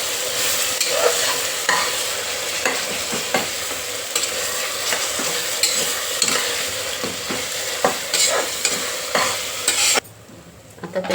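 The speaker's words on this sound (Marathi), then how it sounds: "आपण जो उरलेला मसाला तो आपण त्याच्यात टाकून परतून घेऊया" Onion, tomato and leftover masala sizzle and fry in a pan while being stirred, a steady close crackle with frequent scraping strokes that continues for about ten seconds and then drops to a quieter simmer at the end.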